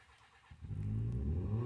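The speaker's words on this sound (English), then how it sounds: "Oh, that was a car." A car passes outside a cabin, rising from quiet to a close, steady engine drone with no voices over it.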